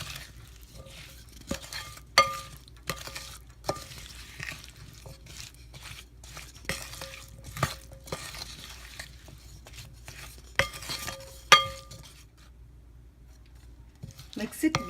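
Spoon stirring homemade mango pickle after fenugreek and mustard seed powder go in, giving scattered scraping clinks and taps of metal against a bowl or pot at close range, with some soft speech mixed in.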